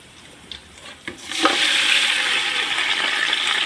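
Chopped pork ribs hit a hot pan with a sudden loud sizzle that settles into a steady, hissing fry, preceded by a couple of soft clinks.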